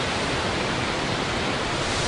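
Waterfall at Plitvice Lakes, Croatia, pouring as a loud, close, even hiss of falling water that fills the whole clip without a break.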